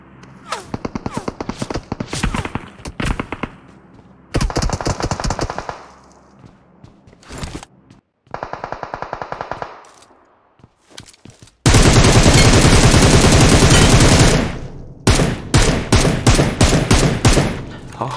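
Gunfire in the mobile battle game PUBG Mobile, loud rapid automatic bursts and single shots in uneven groups, with one sustained dense barrage near the end and no talking.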